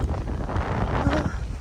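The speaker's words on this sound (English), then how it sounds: "It's not hot, it's windy today." Gusty wind on a canyon hiking trail, buffeting the microphone with a low, uneven roar throughout the short stretch.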